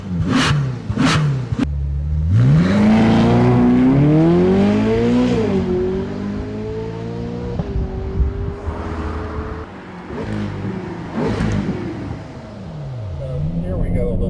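A 2012 Ferrari California's engine revs up in traffic in rising, roaring sweeps, loud and close from inside the car. It eases off, then climbs again toward the end.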